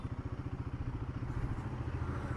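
Motorcycle pulling away in first gear, its engine chugging in fast, even pulses that blend into a rising, rougher drone, close and fairly quiet, with no talking.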